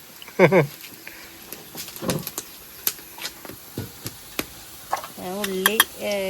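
Onions for biryani fry in a pan with a soft sizzle, broken by scraping stirs and clatters. A voice talks intermittently over the cooking.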